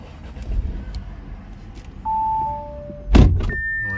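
2018 Audi A5 Sportback starting from inside the cabin: a couple of chimes sound, then the starter cranks and the engine catches with a short, loud rise before dropping to a quieter idle, with another tone afterward.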